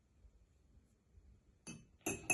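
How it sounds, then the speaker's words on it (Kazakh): A couple of quick, bright clinks of a metal spoon against a glass of milk after a near-silent stretch. "Енді қасықты саламыз."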